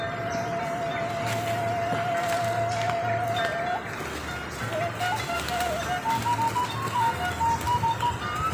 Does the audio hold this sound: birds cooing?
yes